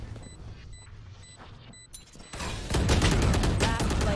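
Turret gunfire in a shooter video game: a dense, loud stretch of rapid shots and crackling bursts builds up in the second half, following a more muffled start with faint beeps.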